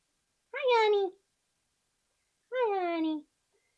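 A pet cat gives two clear, drawn-out meows about two seconds apart, close and loud, with silence before, between and after them.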